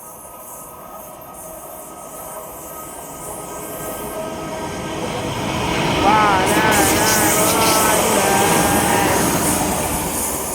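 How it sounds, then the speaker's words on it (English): A London Western Railway Class 350 train passes through Tipton station, its rumble building from a low rolling drone into a loud close pass with wheel squeals and a whistling whine toward the end. "Passing through now is our final train in the video."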